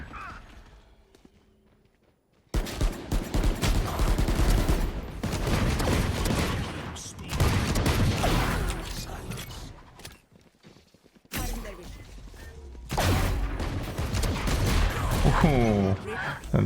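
Gunfire in the video game Valorant comes in dense, loud bursts with clattering mechanical sounds across long stretches, broken by short quiet gaps, while a person talks over it.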